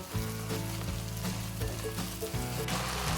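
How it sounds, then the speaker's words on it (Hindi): Ginger garlic paste frying in a pan with lightly browned onions, a steady close sizzle with crackling throughout, loud and continuous with no talking. "थोड़ा सा फ्राई करेंगे अदरक लहसुन के पेस्ट को।"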